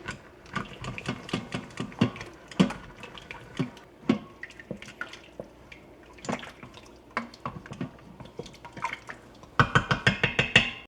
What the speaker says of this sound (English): I'm gonna scrape up all the stuck bits at the bottom.